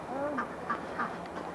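Ducks quack several times in short, nasal calls at a moderate distance over steady outdoor background noise.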